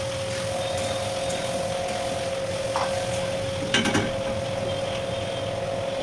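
Chicken curry with added water simmering in a pan, a continuous bubbling sizzle with a steady tonal hum and a few brief clinks, no speech.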